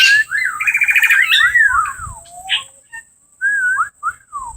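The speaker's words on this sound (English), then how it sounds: "As you can probably hear right now, there are a lot of whistling birds around here." Parrots, including African grey parrots, whistle at the Columbus Zoo bird exhibit: loud, close, warbling and rising whistled calls that come in bursts separated by short pauses, with faint low rumble underneath.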